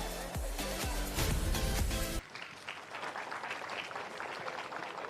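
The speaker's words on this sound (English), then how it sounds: "give them a big round of applause" Applause from spectators at a motorsport event with podium presentations and drifting, a steady crowd clapping that follows a brief burst of louder music-like sound at the start.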